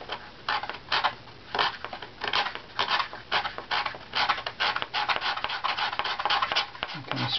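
A steel scraper shaves the wooden top plate of a violin in quick, rhythmic rasping strokes, close and fairly loud, a steady series of short scrapes with brief gaps.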